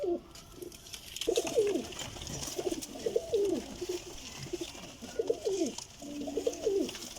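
Several pigeons of a French breed coo in repeated low, warbling phrases at a bird seller's, the calls coming in bursts close by with short gaps, no talk.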